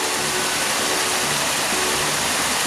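Unagi waterfall in Yamato town, Kumamoto, a chain of small cascades, gives a steady, dense rush of flowing water that holds even and close throughout, with no voices.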